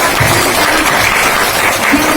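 Audience applause at a Brahma Kumaris birthday celebration in Raiganj, a loud, steady wash of clapping filling the whole moment without letup.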